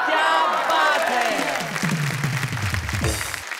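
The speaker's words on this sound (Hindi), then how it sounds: "हम आपको तालियां बजाने का भरपूर मौका देते हैं" Studio audience on a Hindi TV comedy poetry show clapping and cheering, a loud burst that thins toward the end with voices mixed into the crowd.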